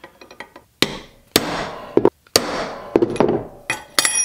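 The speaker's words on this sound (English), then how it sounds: "then I'm gonna use my center punch" A center punch struck with a hammer on metal while fabricating a custom forward controls mount for a Honda Grom: a handful of sharp, loud metallic taps, some quick light ones, then several heavier strikes spaced about half a second apart, with no talking.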